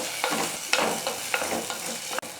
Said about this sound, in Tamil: இப்போ வெங்காயம் காய் எல்லாமே வந்து நல்லா வதங்கட்டும்